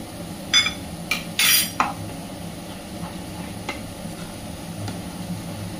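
Spoon scraping and clinking in a pan as whisked sour yogurt is stirred into a potol curry, a few sharp metallic knocks early over a soft steady sizzle.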